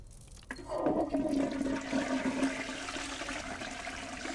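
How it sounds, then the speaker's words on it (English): A toilet flushing in the video game Deponia 2, a loud rushing gurgle that swells quickly, then drains and fades steadily with no talk. "Well, let's flush it then."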